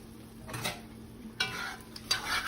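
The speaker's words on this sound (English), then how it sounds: "I'll give it a stir really quick" A spoon scraping through a pan of finished ratatouille, soft stirring strokes in a few separate passes under a faint sizzle, quiet and close with no voices.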